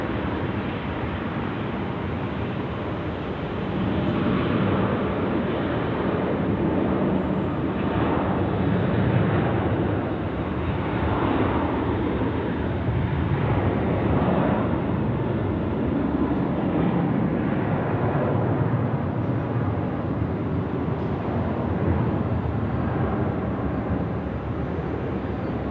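A broad steady jet roar, as from an Emirates Airbus A380 landing on runway 16 right at Sydney Airport, swells and holds for over twenty seconds, fairly loud with no voices.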